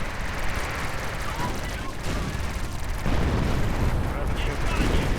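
Artillery fire in a World War II real-time strategy game, heavy booming explosions and rumbling blasts layered with scattered gunfire, dense and continuous, with a commentator's voice partly under the battle noise.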